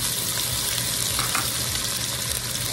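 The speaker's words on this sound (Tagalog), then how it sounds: "Pipirituhin muna natin yung ating patatas at saka carrots." Potato pieces frying in hot cooking oil, a dense, steady crackling sizzle that stays loud and close without a break, with no talking over it.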